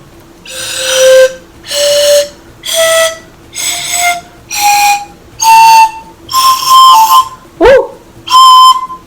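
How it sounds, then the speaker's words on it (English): Homemade pan flute played note by note, about nine breathy whistling tones in a rising scale with short pauses between them, close and fairly loud, with one sharp squeaky blip near the end. "Now you've made your own personal pan flute"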